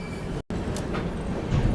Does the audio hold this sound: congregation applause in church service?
no